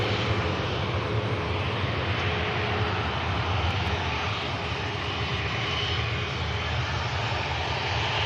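A TUI Airways Boeing 737 MAX 8 arriving at Manchester Airport from Rovaniemi, its engines giving a loud, steady broadband roar that holds without a break.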